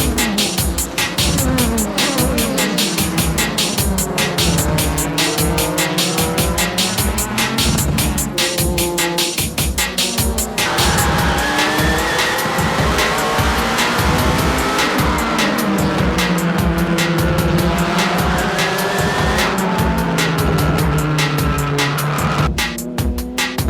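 Supra GT race cars of the JGTC championship, including the AU Sirmo Supra, blast past on a circuit in a loud, continuous engine roar with rising and falling pitch as several cars pass close by, with brief tire squeal.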